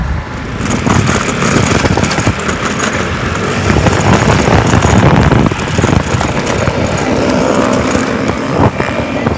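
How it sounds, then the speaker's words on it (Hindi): A motorcycle ridden on a street runs loud and close for the whole stretch, a steady, rough engine roar with no clear rise or fade and no voices over it. "कोई कुड़ी मोटरसाइकिल चला रही है,"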